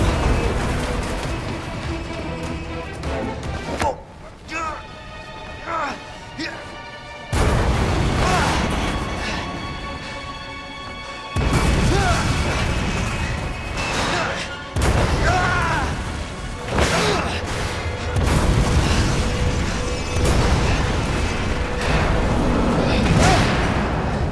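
Explosions and gunfire in the video game Resident Evil 2, heavy booms and crashing bursts repeating at irregular intervals over about twenty-four seconds, loud and close, with occasional talk over them.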